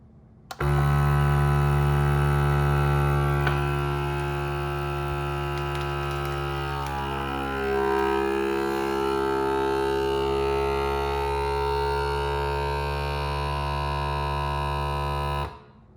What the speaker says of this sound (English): go ahead and press your start or auto vac button